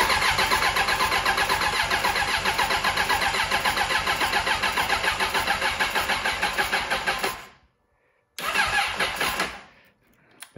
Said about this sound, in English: I think I want to see if it'll crank